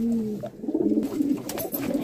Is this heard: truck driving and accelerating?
no